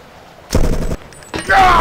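Gunfire in the video game Deus Ex comes in two loud bursts of shots, separated by a short quiet gap.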